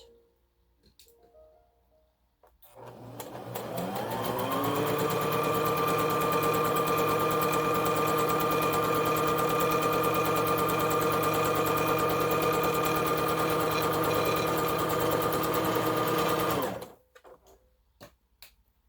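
A sewing machine sews a narrow strip of bandana fabric in one steady run of about fourteen seconds. The whirring hum with a fast ticking rhythm is close and loud, and quiet handling sounds come before and after.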